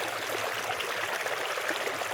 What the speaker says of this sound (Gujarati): પાણી જાય જ છે એમાં.